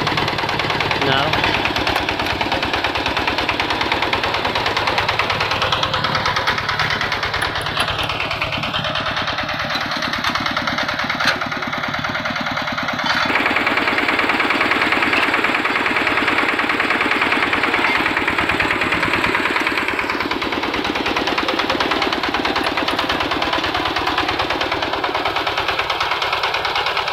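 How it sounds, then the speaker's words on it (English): A Kubota tiller engine runs steadily nearby in a rice field during a seeder test, a continuous loud mechanical drone with rapid clatter and shifting pitch. "This is a fiber tiller from Kubota."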